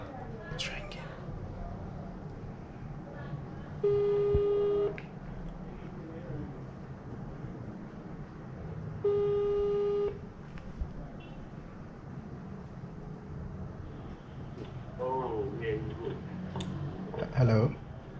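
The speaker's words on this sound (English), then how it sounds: "It's ringing." An outgoing telephone call gives two evenly spaced ringback tones, each about a second long with a long gap between them. They sound over faint background noise, and a few quiet clicks and handling sounds come near the end.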